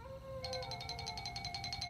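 A voice imitates a cat's meow in a single drawn-out, wavering call, close and clear, with no other sounds.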